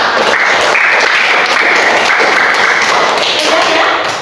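Hand claps from a fifth-grade classroom clapping game, children clapping together loudly and continuously in a close, reverberant room, the claps blurring into a steady roar.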